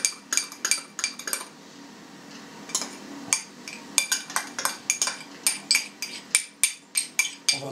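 Processed cheese mixed with sodium citrate is stirred with a metal spoon in a bowl, a quick run of sharp clinks and scrapes against the sides, pausing briefly before resuming in a steady, rhythmic series of close knocks.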